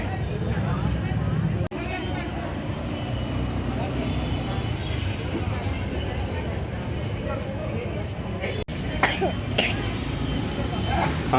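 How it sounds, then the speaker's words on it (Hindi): A sick child coughs a few times, short harsh bursts near the end, among adult voices and a steady background of street and traffic noise. "खांसी आ रही का?"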